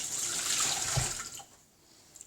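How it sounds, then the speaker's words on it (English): Hands washed quickly under a running kitchen tap, a close rushing splash of water for about a second and a half before it is shut off, leaving a quiet room. "so a quick wash of hands"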